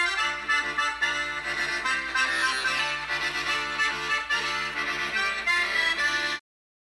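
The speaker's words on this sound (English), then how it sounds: "The accordion comes from Germany and sounds like this" German accordion playing a lively folk melody, with dense reedy chords and a bellows-driven sustained tone, loud and close with no voices, stopping abruptly.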